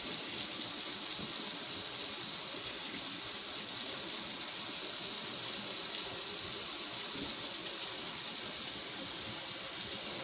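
A makeup brush is scrubbed under a running tap at a sink, producing a steady, close, continuous rush of splashing water with no talking.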